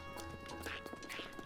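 Horse hooves clip-clopping at speed in the Zelda Breath of the Wild video game, a steady run of hoofbeats under game music and ambience, moderately loud.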